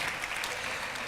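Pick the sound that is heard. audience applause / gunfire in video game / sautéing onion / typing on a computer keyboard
audience applause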